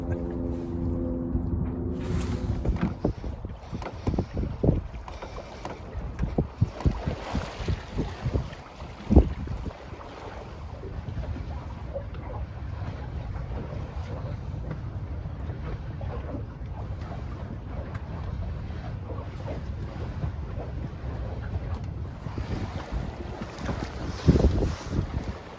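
A sailboat moves slowly in light late-season wind of about seven knots, with soft water swishing along the hull, occasional creaks and knocks, and steady wind buffeting the microphone.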